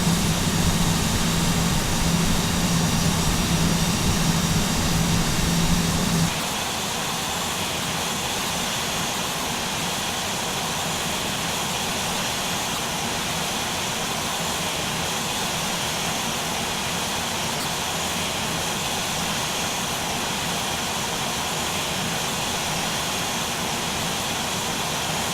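Replay of an Airbus A320 jet landing in Microsoft Flight Simulator X: a steady, loud broadband engine and air roar with a lower rumble that drops away after a few seconds, then a long even whoosh, with no talking.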